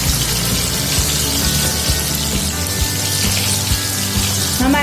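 Sweet potato fries sizzle in hot oil with a dense, continuous hiss and crackle, close and loud throughout with no talking.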